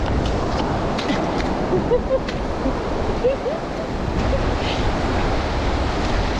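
Ocean surf on a beach as the tide comes in, a continuous dense roar of waves with wind rumbling across the microphone and no clear breaks.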